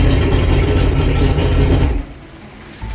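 Mercury 150hp outboard engine runs loud and steady in neutral after a water pump change, then cuts off abruptly two seconds in, leaving a quiet tail with a faint thump.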